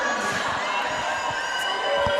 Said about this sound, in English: There's lots of cheering in the background.